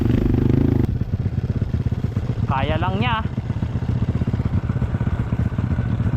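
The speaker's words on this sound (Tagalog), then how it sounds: "Ito ang pagka-power ng motor ko." A motorcycle engine runs on a dirt trail with a loud, rapid, pulsing drone, while a person speaks briefly over it partway through.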